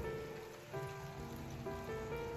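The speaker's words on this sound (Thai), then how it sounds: "ฝนตกค่ะทุกคน" Rain falls steadily on a cold morning with sub-zero temperatures, a faint continuous patter of drops on surfaces with no voices.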